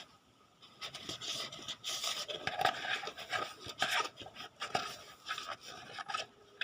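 A flower pot is scrubbed on the inside with a few drops of hydrogen peroxide, giving irregular raspy rubbing and scraping strokes, close and moderately loud, with no talking.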